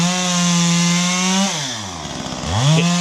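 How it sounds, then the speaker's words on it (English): A ported Stihl MS 290 chainsaw runs loud and close, holding a steady high idle, then dropping off and revving back up near the end. No voices are heard. "we'll run the 290 a little bit, see where it's at. But I really like this saw"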